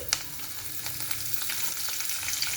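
Urad dal, mustard seeds, cumin and curry leaves sizzling in two spoons of hot oil in a kadai, a steady crackling fry with occasional sharp pops and faint stirring, close and continuous, no talk.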